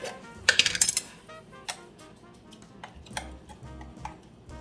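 A spoon taps and scrapes minced garlic off into a soup pot, a short cluster of sharp metallic clinks near the start followed by a few softer scattered knocks.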